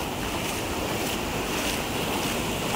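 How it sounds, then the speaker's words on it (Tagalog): Strong ocean waves at a beach make a dense, constant roar of surf with wind noise on the microphone, loud and unbroken for the whole stretch. "Kahit humid, malakas ang alon."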